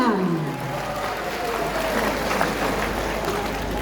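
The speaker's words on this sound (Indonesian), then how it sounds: "tepuk tangan" Congregation applause at a morning worship service of a GBKP church synod assembly, steady broadband clapping from a large gathering filling the room throughout, with some mixed voices underneath.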